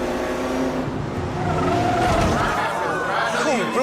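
Race cars from the 1963 era drive on the Fontana Speedway track, loud engines roaring and rising in pitch as they pass, with tires squealing and voices mixed in.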